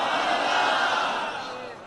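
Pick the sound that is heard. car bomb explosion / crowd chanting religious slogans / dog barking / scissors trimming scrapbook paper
crowd chanting religious slogans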